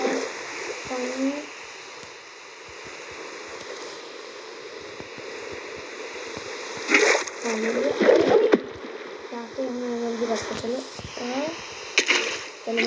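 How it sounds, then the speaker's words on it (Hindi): Water splashes in the Minecraft video game in short bursts over a quiet background, several soft splashing clusters scattered through, with a voice talking in between. "चलो और यहाँ चलो वाटर बकेट डालते नीचे"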